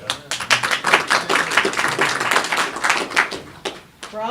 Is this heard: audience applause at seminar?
yes